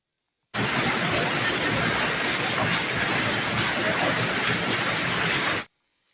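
Severe hail and rain pound down in a steady, dense roar, loud and unbroken from start to finish, then cut off abruptly.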